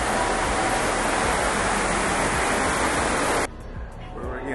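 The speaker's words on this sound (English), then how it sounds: "the waterfall" Rushing water from a waterfall on a Disney World ride, a loud, dense, steady roar that cuts off abruptly near the end, leaving quieter ambient noise.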